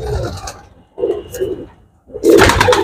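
Pigeons cooing close by in three soft, throaty bursts separated by short pauses.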